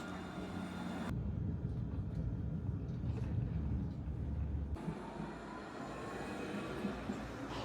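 A Nottingham Express Transit tram, number 217, rumbles at a tram stop with a steady low drone, loud and close, its tone shifting as it runs, with no voices.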